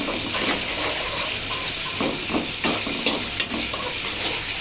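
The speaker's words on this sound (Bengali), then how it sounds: "এই তো এখন আদা রসুন বাটা দিয়ে দিয়েছি, এখন ভালো মতো কষে নিব।" Ginger garlic paste fries with onion and chili in a pan, giving a steady hiss and sizzle broken by scraping stirs, close and continuous with no talk.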